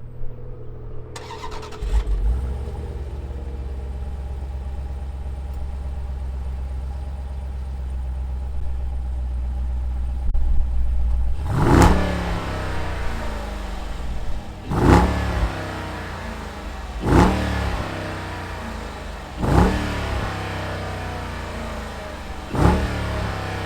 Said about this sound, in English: let's fire up this V8 and see what it sounds like